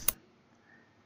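A single crisp computer mouse click, close and brief, followed by near silence.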